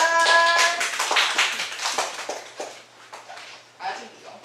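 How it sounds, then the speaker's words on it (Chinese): Audience clapping to welcome the next performer at a beginners' music concert, a patter of hands heard close while a voice talks over it; the clapping tapers off toward the end. "我们给予热烈的掌声"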